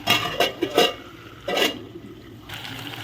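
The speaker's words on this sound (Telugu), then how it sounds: "ఉప్పును కారం అయితే వేసిన ఫ్రెండ్స్ ఇదైతే కలుపుకోవాలి నెమ్మదిగా అయితే కలుపుకోవాలి" A spoon scrapes and stirs through cooked tomato curry with salt and chili powder in a pot, giving close wet clinks and knocks in a few uneven bursts, alone without talk.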